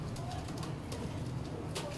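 Pure Indian Ferozpuri pigeons, big broad-winged birds kept in Lahore, give low rolling coos in a steady murmur, with faint rustling and a brief higher flutter near the end.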